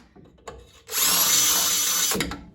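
A power drill enlarges holes to 3/8 inch in the suspension pockets of a 1977 Chevy Camaro during restoration, a single loud high whirring burst of just over a second after some faint handling noises, no talking.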